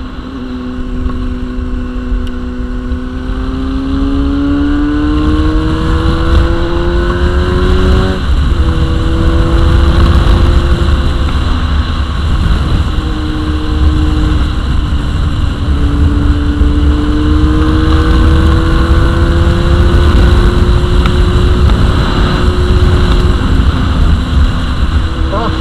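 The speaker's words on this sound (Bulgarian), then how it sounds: "като разпускам аз, така с моторчето, полекичка" A small motorcycle ridden leisurely, its engine droning loudly and close with repeated rises and falls in pitch as it shifts and accelerates, plus wind rush over the rider.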